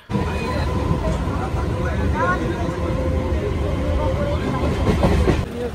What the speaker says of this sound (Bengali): আমি চলে আসি বজবজ স্টেশনে ট্রেন ধরবো বলে